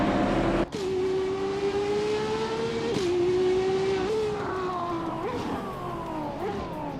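A 2018 Radical RXC Turbo 600R race car pulls away from the line at Valencia, its loud engine climbing in pitch through several gear changes, sustained and close with no voices.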